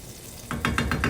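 Beef hitting hot lard in a pan while making empanadas salteñas, a soft background hiss that swells into a brief sizzle with a few quick scraping stirs near the end.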